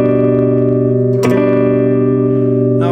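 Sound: cigar box guitar strumming a movable chord on three strings

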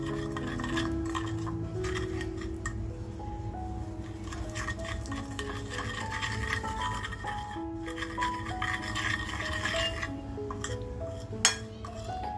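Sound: mixing homemade masala for tandoori mutton chops

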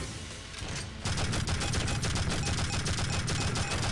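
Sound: cannon fire in the video game Tribes: Vengeance

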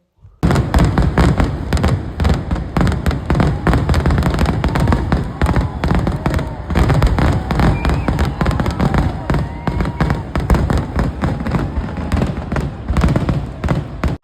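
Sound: fireworks display at Thrissur Pooram festival

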